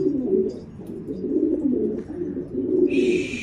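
A soft, low dove-like cooing repeats in steady phrases close by, with a brief higher chirp near the end.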